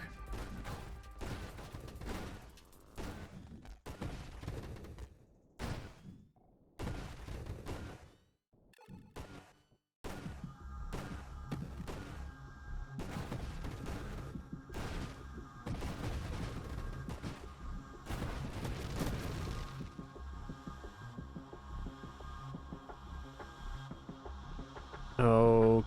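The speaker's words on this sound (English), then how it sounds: "Incendiary Strike putting in the work." An Incendiary Strike attack in a video game fires in a string of sharp bursts and blasts, then settles into a sustained humming, crackling rumble with ringing tones over it, fairly quiet overall with a loud burst at the end.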